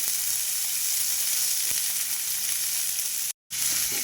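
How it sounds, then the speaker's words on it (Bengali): Spiny gourd (kakrol) pieces sizzle steadily in a pan, a dense continuous frying hiss with a faint scrape near the middle and a brief full dropout toward the end. "দেখুন এই যে কাঁকরোলগুলো আমি খুব ভালোভাবে নাড়িয়ে নেব।"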